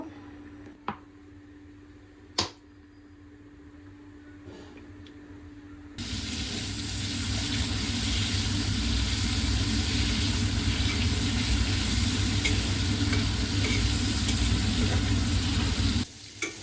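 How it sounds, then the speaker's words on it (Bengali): Prawns drop into hot oil in a pan and burst into a loud, steady sizzle that crackles for about ten seconds, after a quieter start with a few scattered kitchen clinks. "এখন মাছটা হালকাভাবে ভেজে নিই, আর এখন তেল দেব"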